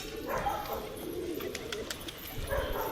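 A pet pigeon coos in soft low bursts near a rooftop, the calls steady and close, with faint background noise and no clear talk.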